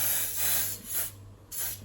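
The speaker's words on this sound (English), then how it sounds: "spray some isopropyl alcohol on it" A spray bottle of isopropyl alcohol hisses onto a mountain bike brake disc in a few short bursts, close and fairly loud, with brief pauses between sprays.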